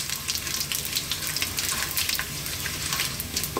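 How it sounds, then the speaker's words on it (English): Curry leaves and cumin seeds crackle and sizzle in hot oil for a fish curry, a steady bright frying hiss with fine popping, close and continuous with no talk. "let's drop in our curry leaves and the cumin seeds"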